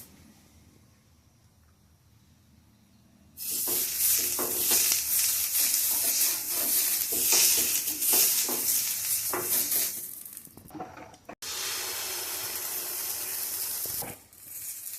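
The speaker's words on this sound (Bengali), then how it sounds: "কলার ডাটাটা আমি নোড়া দিয়ে থেতে করে ব্রাশের মতো করে নিয়েছি এখন এটা দিয়ে আমি তেল ব্রাশ করে দেবো" Oil brushed across a hot pan with a crushed banana-stalk brush while cooking red spinach pitha, a loud steady sizzle bursting in after quiet, with scraping strokes, a brief cut, then more sizzling that fades near the end.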